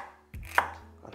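A knife chops through celery on a cutting board: one firm, crisp cut followed by a faint second tap, close and quiet with no talk.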